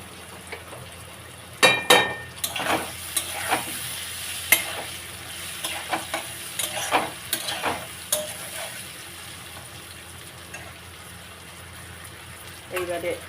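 Shrimp fry in a pan with turmeric and salt for a papaya ghonto, sizzling steadily while a utensil stirs and clinks against the pan in bursts, with a nearby voice talking over it.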